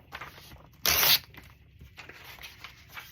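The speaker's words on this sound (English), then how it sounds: "We need to cut that out." Scissors snip a picture out of a glossy magazine page, with soft paper rustling and one brief, louder cutting or tearing burst near the start, close and quiet.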